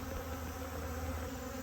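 Honey bees buzz around a hive, a continuous, faint, even hum of many insects with no voices.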